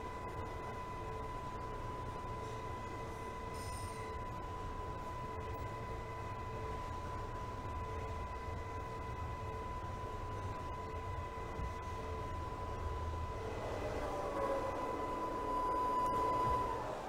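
A Queens-bound J local subway train running in Trainz Simulator 2012, a steady low rumble and hiss of wheels with a sustained whine, swelling slightly louder near the end, no voices.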